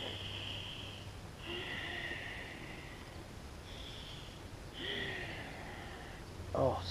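Deep, slow breathing during a full-body stretch, long airy inhales and exhales repeating in a steady rhythm, close and fairly quiet, with a brief snort near the end.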